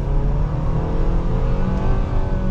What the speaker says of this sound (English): So setting off now in the Nissan Sentra